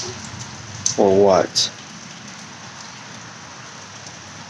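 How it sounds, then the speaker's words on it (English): Steady rain hisses throughout, with a short burst of a person talking partway through before the downpour continues on its own. "It is raining."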